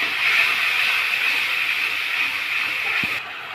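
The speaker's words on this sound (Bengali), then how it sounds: "এখন আমরা আদা রসুনের পেস্ট বাটাটা দিয়ে দিলাম এর মধ্যে। এখন সমস্ত কিছু ভালোভাবে কষিয়ে নেব।" Ginger-garlic paste sizzles steadily in a hot pan of oil while a fish-head chorchori is being cooked, a constant close hiss that runs unbroken and drops away slightly near the end.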